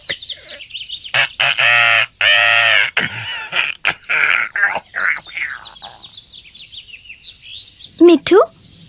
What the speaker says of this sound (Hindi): ओ तोता बहुत प्यारा है।